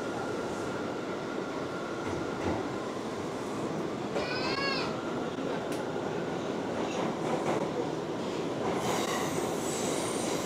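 A New York subway train rides along with a loud, continuous rumble and rattle of wheels on track, broken by a couple of high metallic squeals, heard from inside the car.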